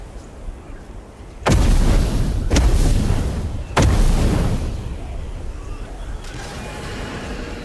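Three heavy grenade blasts from a grenadier up on a hill in the video game Witchflame, loud booms at about 1.5, 2.5 and 3.8 seconds, each trailing into a rumbling decay over steady background ambience.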